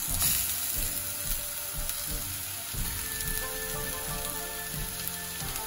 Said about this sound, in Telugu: సో ఇది మెయిన్ గా గార్లిక్ లో రోస్ట్ అవ్వాలి.